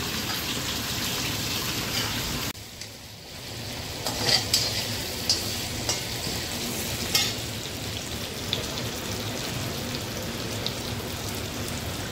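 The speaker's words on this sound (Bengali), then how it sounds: "আমি জিরা আলু মাছটাকে ভেজে নিলাম" Balia fish with cumin and potato frying in a pan, a steady dense sizzle throughout with occasional stirring scrapes and a brief dip partway.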